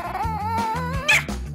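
A dog whimpers and whines in a high, wavering, drawn-out tone over about a second and a half, close and fairly loud, rising to a sharper yelp near the end over a low background of music.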